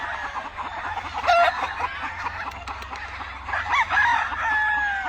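Roosters and chickens on a Louisiana farm crow and cluck together, with several long crows rising over a steady background of clucking birds, loud and close, with no talking.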